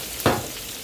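Carrots and celery are stir-fried in a pan for pansit bihon, with a single quick stirring scrape and a sizzle that flares up close and then settles into a soft, steady frying hiss.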